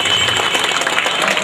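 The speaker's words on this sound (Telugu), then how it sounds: "చప్పట్లతో ఆహ్వానిస్తున్నాము" Applause from an audience welcoming a DSP at an eye camp, a brief dense wash of clapping that fills the whole moment at steady loudness.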